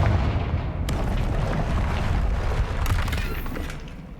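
A Confringo spell blast explodes in a video game, a deep booming burst with rumbling low-end tail and scattered crackles, loud and close, fading toward the end.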